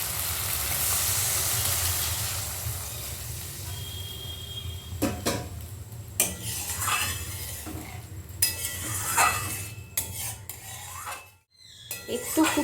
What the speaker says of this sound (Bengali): মশলাটা কিন্তু 2-1 মিনিট দইটা দিয়ে আমি নাড়াচাড়া করে নিয়েছি। এবারে দিয়ে দিচ্ছি জলটা।